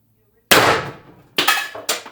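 An X-68 CO2 air pistol fires, giving a sharp loud crack and then two quicker snapping bursts, each one dying away fast.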